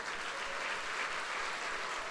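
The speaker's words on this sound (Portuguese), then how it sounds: "Vamos dar um aplauso a Jesus?" Church congregation applauding, a dense steady patter of many hands clapping together, moderately loud and with no pause.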